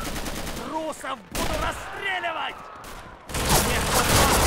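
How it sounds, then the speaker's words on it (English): Machine gun fire in the World War II shooter Red Orchestra, with bursts of rapid shots mixed with voices talking over them, the firing growing dense and loud toward the end. "Still have an MG up there."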